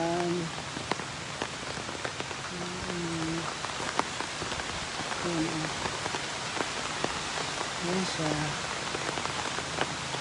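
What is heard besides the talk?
heavy rain falling during flood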